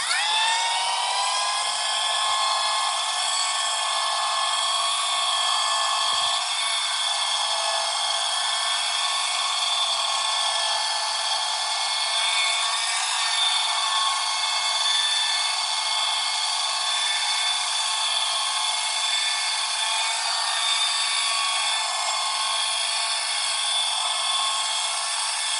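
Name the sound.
machine polishing VW Beetle paint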